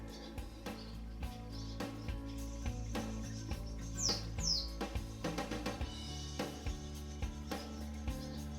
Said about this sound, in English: Birds are flying in and out of here.